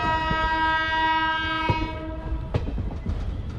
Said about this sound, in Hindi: लगता है साथ में कोई दूसरी ट्रेन आ रही है जो साथ में हॉर्न देते देते हुए आ रही है।